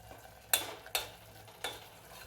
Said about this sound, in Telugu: ఈ పేస్ట్ని నూనెలో ఒక రెండు నిమిషాల పాటు వేయించుకుంటే తమలపాకులోని పచ్చివాసన కూడా పోతుంది